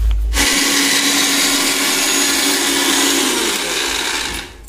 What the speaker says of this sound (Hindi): हल्दी पिसाई कार्यक्रम हुआ थे हीरो कंपनी के मिक्सी में।